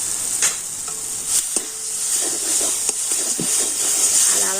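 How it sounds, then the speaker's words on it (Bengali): Grated ginger frying in oil as it is stirred, for a raw mango potato chop, gives a continuous close sizzle with sharp spatula taps and scrapes against the pan scattered through it and no voices. "আর আদাটা একটু নাড়াচাড়া করে নিয়ে"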